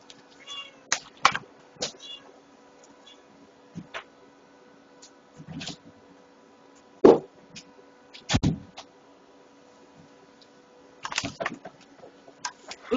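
A pet cat meows insistently in a quiet bedroom, several loud, separate calls spread irregularly across the stretch with near-silence between them.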